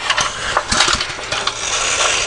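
An old, neglected lawn mower engine with a fussy carburetor sputters as it tries to catch, giving a few uneven coughs and pops before a rough, ragged run, close by and with no one talking.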